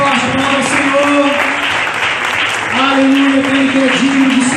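A church congregation claps loudly and steadily while a voice sings or calls out over the applause, and the whole crowd sound stays full throughout.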